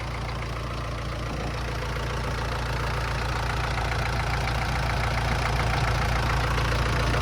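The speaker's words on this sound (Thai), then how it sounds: "เครื่องดีถึงดีมากเลยเป็นเครื่องร้อยสิบแรงนะครับตัวนี้" A 110-horsepower truck diesel engine idling, a steady low rumble with an even knocking pulse that runs loud and constant throughout, with no talking.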